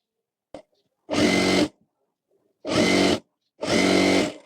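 An electric sewing machine stitches a blouse in three loud, close, steady whirring runs of about half a second each, separated by short silences, with a brief click at the start.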